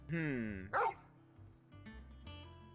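Dog barking in the video game Final Fantasy XVI: a loud close bark followed by a softer yip, then quieter whining sounds, with someone speaking over the dog.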